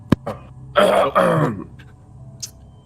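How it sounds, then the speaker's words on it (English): A man clears his throat in a few rough, forceful bursts close to the mic, followed by a brief quieter rasp and near silence. "I can't clear my throat."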